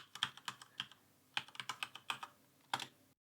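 Computer keyboard keys being typed in short irregular bursts of crisp clicks, close and clear, with brief pauses between groups and no voices.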